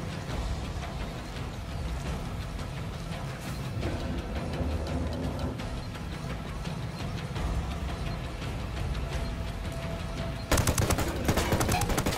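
Dense, continuous automatic gunfire rattles through a firefight in the video game Ghost Recon Wildlands, with a sharper, louder burst of shots near the end.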